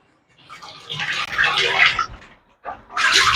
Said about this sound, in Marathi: पाणी आलंय पाणी भरतोय